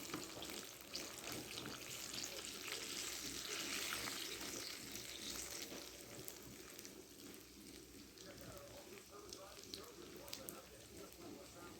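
Nutella banana and caramel apple egg rolls fry in an electric skillet, a soft, close crackle and bubbling that runs continuously and fairly quietly, louder in the first few seconds.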